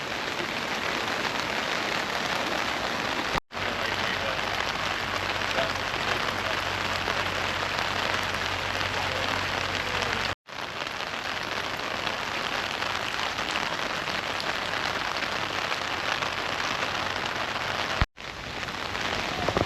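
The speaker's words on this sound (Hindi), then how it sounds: "आज तो बारिश है और इसलिए आ रहा है।" Steady rain pouring on Miyajima Island, a dense continuous hiss of drops hitting surfaces, broken by a few sudden brief cuts, with no voices.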